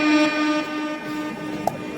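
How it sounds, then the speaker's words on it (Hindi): A long, steady siren with sustained harmonic tones drones through a village kabaddi tournament quarter-final, loud and continuous, with crowd noise beneath it. "सायरन बजी है,"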